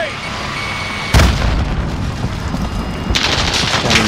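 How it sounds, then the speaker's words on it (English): A grenade goes off in Call of Duty: Modern Warfare, a sudden loud boom partway through, followed by rumbling battle noise and a second burst of blasts near the end, with voices calling out over the gunfire. "Throw grenade!"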